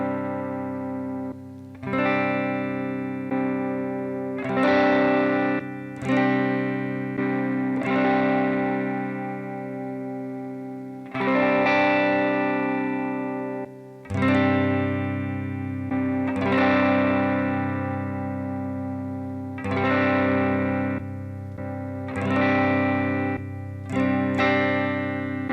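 Electric guitar played through a Valeton GP-50 processor, comparing a clean tone with a boosted tone in a worship-style preset; sustained chords ring out and are restruck about every two seconds, loud and close, with no talking.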